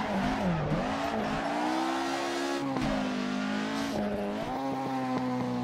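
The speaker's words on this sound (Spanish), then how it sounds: "Tiramos de freno a mano" An Opel Manta in Assetto Corsa during a rally sprint at Hondarribia, the handbrake pulled into a skid: a loud, close engine drone that dips and rises in pitch, with faint tyre scrub beneath and no talking.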